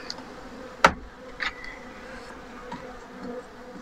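Honeybees fly sparsely around hives at an apiary in cool weather, giving a thin, low-level buzz with a sharp nearby click and a few faint passing hums.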